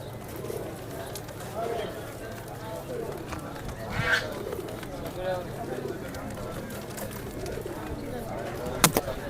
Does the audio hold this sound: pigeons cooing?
yes